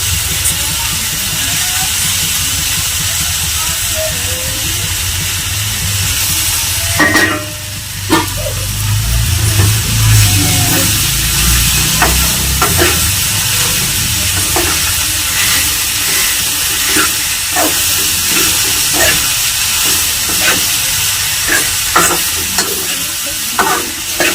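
Onions sizzle in hot oil for a village-style prawn curry, with intermittent scraping stirs over a continuous frying hiss. The sound stays close and fairly loud throughout, with no talking.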